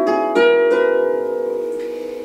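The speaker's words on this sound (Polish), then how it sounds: "Można również uzyskać brzmienie bardziej gitarowe, grając bardzo blisko pudła rezonansowego." Harp plucked very close to the soundboard for a guitar-like tone: three quick, near plucks in a row, their notes ringing on and slowly fading, with a soft fourth touch near the end, no voices.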